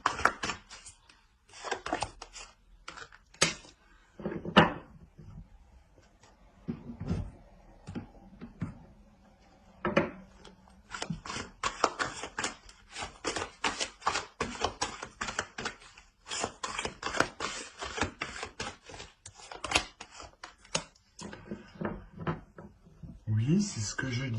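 Tarot cards being shuffled, handled and drawn, a scattered run of soft taps, slaps and rustles that come in uneven bursts close by, with a voice talking between them.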